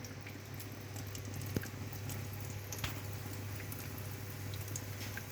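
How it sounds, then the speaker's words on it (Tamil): Snake gourd pieces frying in very hot oil for a Pongal vegetarian lunch, giving a steady, continuous bubbling sizzle with soft crackles and an occasional sharper pop, close and even throughout. "அதே எண்ணெயில் இப்போ நம்ம இந்த புடலங்காயும் பொரிச்சிக்கலாம்."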